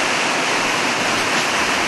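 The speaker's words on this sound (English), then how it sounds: "And you can probably hear some water rushing in the background." Rushing water pours steadily over the Pulteney Weir on the river in Bath, a broad, continuous roar of white water heard close and loud with no talk over it.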